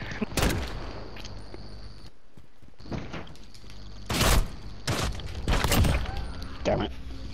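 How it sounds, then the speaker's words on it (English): Sharp, loud shotgun blasts from a Call of Duty: Modern Warfare custom match, several heavy booms spaced a second or so apart with gaps of quieter game noise between them. "I can't get off this stupid shotgun!"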